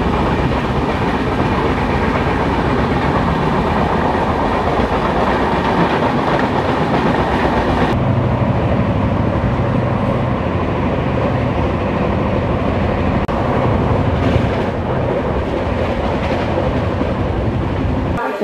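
The Antyodaya Superfast Express between Chennai and Vijayawada runs along the rails with a loud, continuous rumble and rhythmic clickety-clack of wheels over joints, heard close throughout with no talking.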